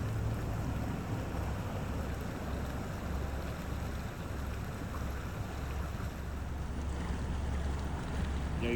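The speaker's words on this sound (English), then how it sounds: "I love the sound of running water." A mountain stream runs along a roadside stop near Guanella Pass in Colorado, a steady broadband rush of flowing water with wind noise, unbroken and fairly close for the whole stretch.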